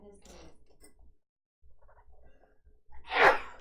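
A single sharp sneeze bursts out near the end, close and loud, after quiet rustling and faint background murmurs.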